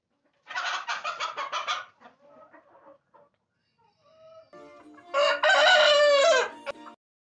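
A free-range farm rooster, bred from a Label Rouge hen and an Índio rooster, crows loudly and close by, with a second full crow after a short pause filled with faint clucking.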